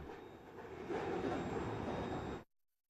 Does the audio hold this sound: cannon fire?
no